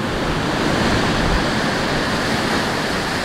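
Steady ocean surf washing onto a beach, a dense, continuous roar of breaking waves close by, with some wind buffeting the microphone and no voices.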